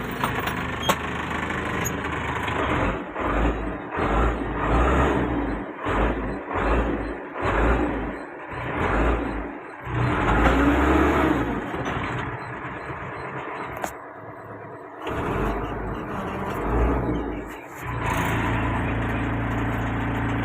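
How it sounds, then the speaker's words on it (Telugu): A Cat machine used for land levelling has its engine started, followed by rough, uneven chugging and revving close by, with a brief drop before it settles into a steady run. "శివా బండి అయితే మనం స్టార్ట్ చేసేద్దాం"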